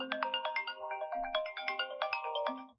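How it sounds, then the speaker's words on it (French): A mobile phone rings with a cheerful, rhythmic melodic ringtone repeating in short phrases, moderately quiet and steady throughout, without speech over it. "Ton téléphone sonne."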